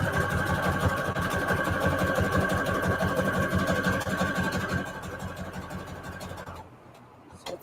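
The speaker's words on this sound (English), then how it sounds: "I'm going to put a zigzag stitch all the way around." Sewing machine stitching a zigzag pattern, a steady rapid mechanical whir with fast repetitive needle chatter, running continuously before slowing and stopping near the end.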